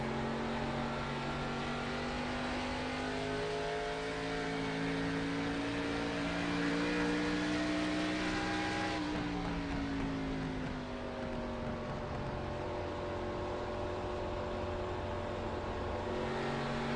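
Stock cars racing in a Midwest Winston Cup Series event, a steady loud engine drone with layered pitches that shifts as cars pass, continuous throughout with no talking.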